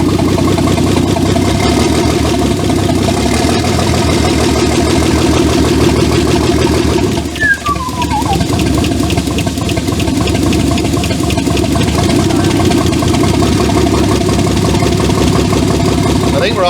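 A turbocharged Holden VL six-cylinder engine idles steadily and loudly up close, running on all six cylinders with a slightly uneven idle in need of adjustment, while people talk over it.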